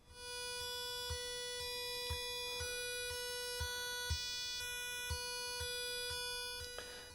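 A steady 490 Hz PWM tone from pins 9 and 10 of an Arduino drones continuously as a thin, buzzy electronic whine rich in overtones, with faint soft ticks underneath and no voices.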